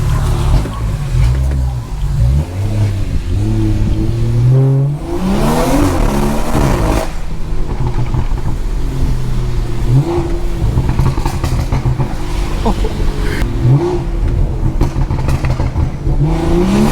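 A straight-piped BMW 340i with a B58 engine revs and accelerates very loudly, its raw exhaust rising and falling through repeated pulls and gear changes, heard close from the driver's seat.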